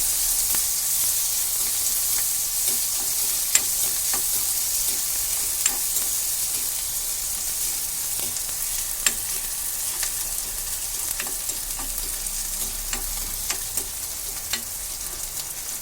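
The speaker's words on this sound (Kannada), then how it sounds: "ಕಟ್ ಮಾಡಿ ಇಟ್ಟಿದ್ದೆ ನೀರುಳ್ಳಿ. ಸ್ವಲ್ಪ ಕೆಂಪಾಗಿ ಹುರಿಬೇಕು." Chopped onion frying in a pan, a steady close sizzle broken by intermittent scraping and tapping strokes as it is stirred, going on with no talk.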